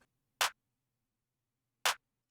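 Two sharp, bright clap hits from a beat, spaced about a second and a half apart, each short and dry, alone against near silence.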